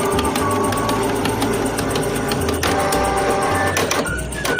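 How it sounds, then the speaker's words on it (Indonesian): A Canon IP2770 inkjet printer prints a test page, giving a continuous mechanical whir with the print head shuttling back and forth and the paper feed buzzing in alternating tones, close and steady with no talking. "Ini posisinya mau test print."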